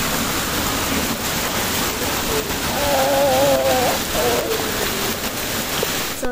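Steady rain falls during a December rainy day in Muscat, a broad continuous hiss running throughout, with a brief tonal warble in the middle and no talk.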